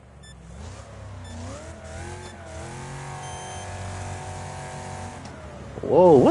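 A NASCAR race car engine revs in a racing video game, a steady, rising and falling engine drone with shifting pitch, building to a louder burst near the end.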